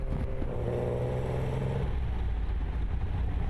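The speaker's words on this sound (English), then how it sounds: "He loves the sound of the engine" A vintage BMW 319/1 roadster drives along with its engine running at a steady drone, a low, rumbling tone that lifts briefly in pitch and then settles, heard at moderate distance.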